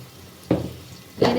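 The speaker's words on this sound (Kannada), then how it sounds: "ನೋಡಿ, ಇನ್ನೂ ಫ್ರೈ ಆಗ್ತಾನೆ ಇದೆ ಈರುಳ್ಳಿ." Onion frying in a pan for drumstick sambar: two short bursts of sizzling and stirring, close and fairly loud, with a quieter sizzle between them.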